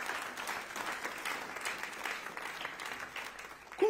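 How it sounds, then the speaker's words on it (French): A church congregation claps at a preacher's invitation, a moderate, scattered patter of hands at some distance that continues steadily before a brief voice at the very end. "vous pouvez applaudir si vous voulez"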